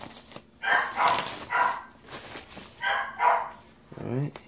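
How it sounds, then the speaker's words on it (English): Eddie the dog barks in a short series of sharp, nearby barks with brief pauses between them, ending in a whiny yelp. "No reason for him to be barking."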